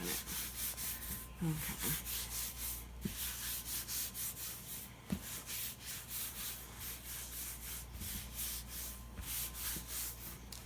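Cavatelli pasta dough is rubbed and pressed flat by hand on a surface, a soft, rhythmic swishing close by, with a brief spoken word.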